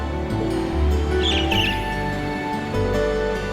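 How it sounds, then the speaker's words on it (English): A strange bird perched on a lamppost in the Trails of Cold Steel video game gives a few faint, high chirps midway through, over steady game music and ambience. "There was just a strange bird on that lamppost over there."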